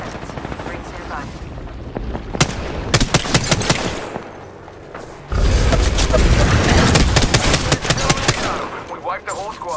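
Rapid automatic gunfire bursts in Apex Legends, loud, close and repeated in rattling volleys, with a dense stretch of sustained shooting in the second half and brief pauses between.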